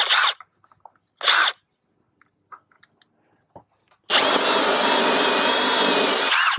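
Two short whirring bursts of a power drill, a few scattered clicks and taps, then a long sustained drilling grind biting into wood while installing water sprinklers.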